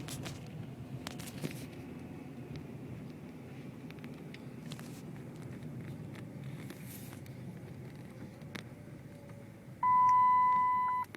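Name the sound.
Dodge car seatbelt warning chime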